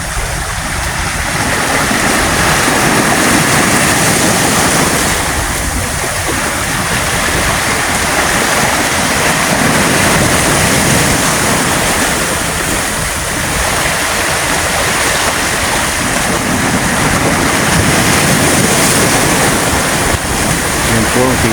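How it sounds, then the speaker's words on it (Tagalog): Loud, continuous rush of rough sea water and surf off Samal Island, Davao, churning without pause, with wind noise mixed in. "Kita natin yung dagat, oh, masyadong malikot, oh."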